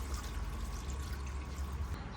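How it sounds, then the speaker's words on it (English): Coolant poured into the cooling system of a 2004 Infiniti G35X with a VQ35DE engine, heard as a steady, soft liquid pour and trickle with continuous low rumbling background noise and no talking. "So just keep pouring it in there, and it should come out over there with that little bleeder valve."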